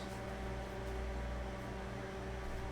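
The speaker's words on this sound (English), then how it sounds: "microwave it for about maybe 30 seconds." A microwave oven runs while melting butter, giving a steady, even hum with a faint fan-like whir that holds unchanged throughout.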